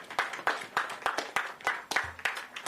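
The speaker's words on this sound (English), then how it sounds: "Give them a round of applause" Audience applause at a ground-breaking ceremony for a renewable energy and battery project on Anegada, heard as evenly spaced sharp claps in a quick steady rhythm, close and fairly loud.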